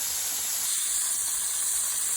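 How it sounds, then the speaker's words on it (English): Thin slices of beef liver fry in a hot pan, a steady bright sizzle and hiss that stays even and unbroken throughout, close and moderately loud with no talk. "Frying up real nice."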